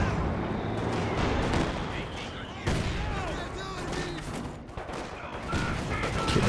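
An artillery counter-barrage rumbles in the Company of Heroes 2 video game, with dense overlapping booms and crackling bursts of gunfire rolling on steadily throughout, loud and busy.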